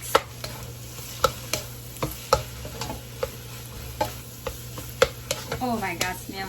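Vegetables and rice stirred in a pan for Lao-style fried rice, a utensil scraping and tapping in a steady rhythm of sharp clicks over a low frying hiss, close and moderately loud.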